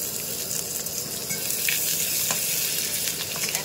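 Hilsa fish head fries with onion and spices in an oil-filled pan: a steady close sizzle runs throughout, broken by occasional scrapes and knocks of a spatula stirring, with no one speaking.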